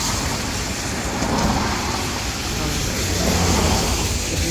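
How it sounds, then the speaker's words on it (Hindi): Traffic passing on a busy London street near a university: a loud, continuous roar of cars that swells as vehicles go by. "कितना शोर हो रहा है गाड़ियों का।"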